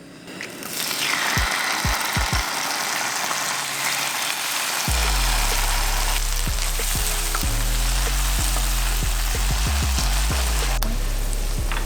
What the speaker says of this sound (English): Now to the same pan, let's fry up some kimchi.